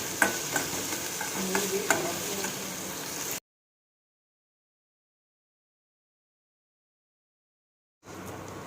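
Onions and tomatoes sautéing in a pan for appakovai chutney, a steady stirring and frying hiss for about three seconds, then silence before the sizzle briefly returns at the end.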